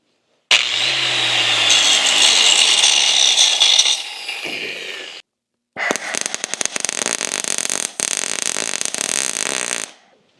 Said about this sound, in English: Just gonna grind that.